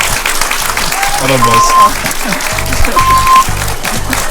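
Audience applause at a Nigerian quiz show taping, a burst of clapping that fills the clip while a voice speaks briefly over it.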